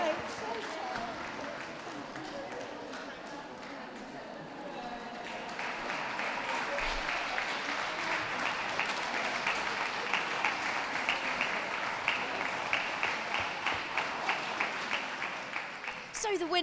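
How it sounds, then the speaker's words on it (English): Applause at a dog show for the dogs and handlers leaving the ring after the Gundog group judging, rising from moderate to fuller clapping midway and continuing steadily, with some voices murmuring in the hall. "Can we give a round of applause to those who are leaving the ring,"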